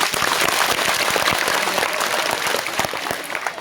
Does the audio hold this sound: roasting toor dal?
no